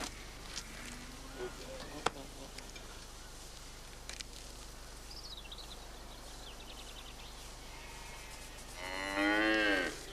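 A cow with bronchitis moos loudly near the end, a drawn-out low call rising over quiet farm background with scattered faint noises and occasional distant bird chirps.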